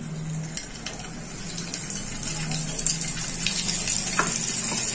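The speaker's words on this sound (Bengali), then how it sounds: "এবার একটু বাটার দিয়ে দিলাম" Butter added to a wok of hot white oil sizzles in a steady, moderate crackle throughout, with a low hum underneath and a few light clinks.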